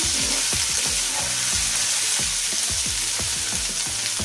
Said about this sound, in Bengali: তো মাছগুলো ভাজা প্রায় হয়ে গেছে